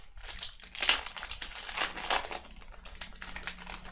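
Foil trading card pack from a Crown Royale basketball box crinkled and crumpled by hand, a steady, close rustling with louder crackling swells throughout.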